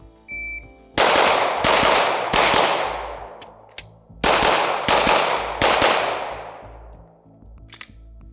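A Glock 45 pistol fires six loud, close shots in two quick groups of three, each sharp crack trailing off into echo.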